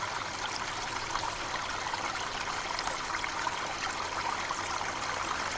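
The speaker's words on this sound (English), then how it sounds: "A natural waterfall is a stunning feature of the landscape where water flows over a vertical drop" Water pours over a cliff in a natural waterfall, a steady, even rush of falling and flowing water with no pauses.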